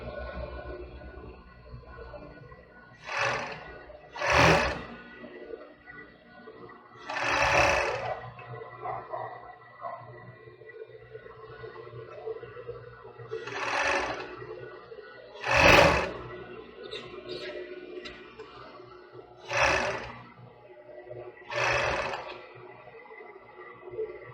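A sewing machine stitching a children's swimsuit, running in short separate bursts of whirring separated by pauses, close and fairly loud, with no talk.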